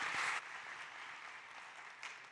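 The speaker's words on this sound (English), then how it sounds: "A big round of applause once again for Giacomo" Brief burst of audience applause at a startup competition event, loudest at the very start and then fading to a softer patter, with a small swell near the end.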